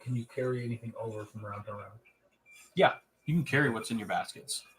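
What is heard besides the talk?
None of the usual background noises is heard.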